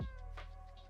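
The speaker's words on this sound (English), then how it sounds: "That was my cat." A pet cat gives a short, close meow that rises and falls within a second, alone over a faint steady hum.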